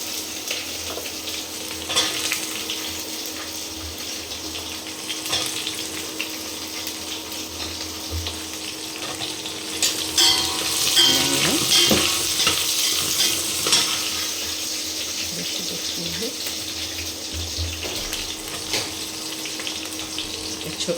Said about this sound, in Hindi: तो इन सब्जियों को डाल देते हैं साथ भूनने के लिए, एक ही साथ सारी सब्जियों को डाल देते हैं।